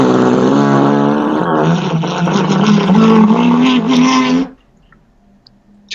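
A person hums while playing an instrument, the voice imitating a car engine starting: a steady buzzing drone with a low, rising pitch, loud and alone, that stops abruptly near the end, leaving near silence.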